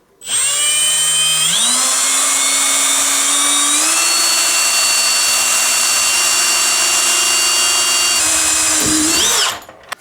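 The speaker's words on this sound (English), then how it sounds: "now we have to drill a hole" A power drill with a 1/4 inch bit whines loudly and continuously, its pitch stepping up as it bores into a drain line, then winds down at the end.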